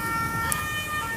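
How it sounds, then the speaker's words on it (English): An emergency vehicle siren wails loudly and steadily on a Paris street in the fall, its high tones filling the clip above a dense rumble of traffic. "You hear the siren."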